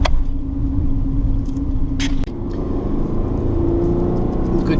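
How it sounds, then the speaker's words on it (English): Road traffic rumbles past: a car and then a truck roll by close at hand, a steady low engine drone with a brief hiss of tires, no talk. "A car and a truck."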